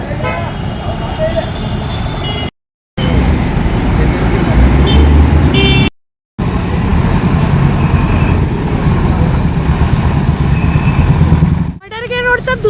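Busy road traffic with cars, buses, trucks and motorcycles rumbling past close by, loud and continuous, with repeated horn toots and a few brief cutouts; voices murmur underneath.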